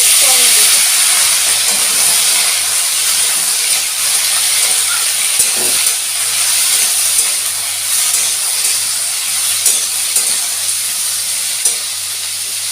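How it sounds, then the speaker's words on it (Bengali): Tomato is stir-fried with potatoes that were already fried until red in a pan, giving a loud, continuous hissing sizzle with occasional stirring clatter and no speech. "এবার টমেটোটা আমি আলুর সাথে একটু ভালো করে কষিয়ে নেব"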